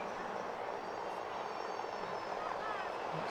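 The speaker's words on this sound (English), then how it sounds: "And the helicopter's back" A helicopter over the alpine ski course at the Sochi 2014 Paralympic women's super-G gives a faint, steady drone, distant and unbroken, under a low wash of background noise.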